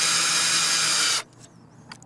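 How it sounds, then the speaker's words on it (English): A power drill drives a self-tapping screw into a wooden fence board, a loud steady whine for about a second that stops abruptly, followed by faint outdoor sounds. "Just go ahead and drive in some self-tapping screws"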